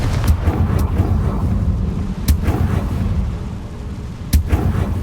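Heavy rumbling blasts from Bombarda and Confringo spells in the Hogwarts Legacy video game, with a few sharp booming impacts over a continuous low roar of explosive debris.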